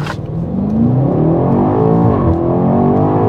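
A 600 hp BMW X5M F95 SUV in sport mode accelerates hard from a standstill, its engine note climbing steadily in loud, close, continuous revving with a brief gear-change dip, with no talking.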